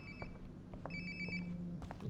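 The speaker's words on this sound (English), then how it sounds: "Sounds like my phone is definitely nearby." A cellphone rings nearby in the Life is Strange: Before the Storm video game, a repeating electronic ringtone in short pulses over a quiet low hum.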